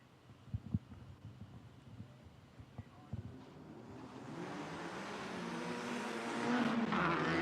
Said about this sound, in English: And I can hear the cars revving up.